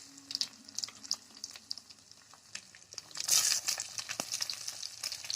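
Onions and a bay leaf frying in hot oil in a kadai, with soft, scattered crackle and stirring scrapes that swell into a louder, busier sizzle partway through.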